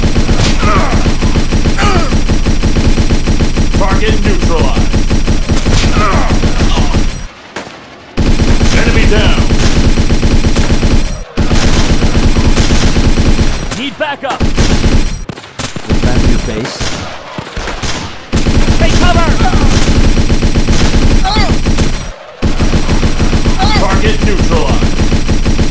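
Rapid machine gun bursts and gunfire in a 2017 Battlefield game roar loud and dense, broken by a few short pauses, with other battle noise layered in.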